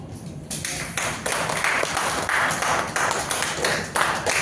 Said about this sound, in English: a big round of applause for the little ones, please